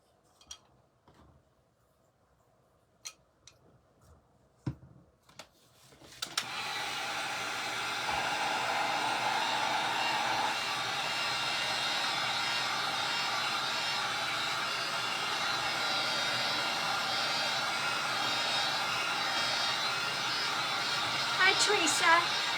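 A dryer blowing on a rooster-shaped cutting board: after a few scattered clicks and taps, a loud, steady rushing whoosh starts and runs continuously to the end.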